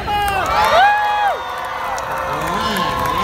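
An audience at the Floor Legendz event shouts and cheers all together on cue, a loud burst of mixed whoops and yells that eases into a lower, sustained crowd roar.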